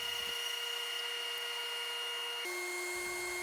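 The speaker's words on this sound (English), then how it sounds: "Using my orbital sander, I removed what I could of the template" An orbital sander works over a piece of wood, humming with a steady, quiet tone that shifts pitch once partway through.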